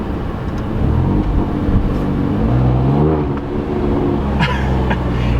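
Alfa Romeo Giulia Quadrifoglio engine revving while driving, a loud, close rumbling drone that climbs and falls in pitch with throttle changes, dipping briefly before building again, no talk.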